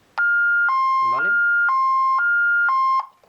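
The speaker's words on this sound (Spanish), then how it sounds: "Si yo la puenteo, saltaría la alarma." A Honeywell Vista security alarm siren sounds loud and close, alternating steadily between two piercing tones for about three seconds before cutting off, with a brief voice sound overlapping early on.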